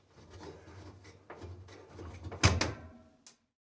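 A hinged HVAC air filter cover, freed after its retaining nuts are unscrewed, swings open with a brief rubbing creak and a louder knock, followed by a short click, heard close up under quiet room noise.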